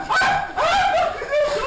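A dog barks and yelps in a few sharp bursts during a tense police confrontation with a man armed with kitchen knives, the calls fairly close and loud.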